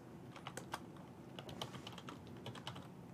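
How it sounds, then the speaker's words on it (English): Close, crisp clicks of keys on a computer keyboard as an email address is typed in an Office 365 admin setting, quick irregular taps with no talking. "Now, I'm going to simply type your email address"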